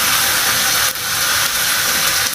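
Onion and chicken sizzling loudly in hot oil in a pan, a dense, continuous hiss of stir-frying for Japanese curry with no talk.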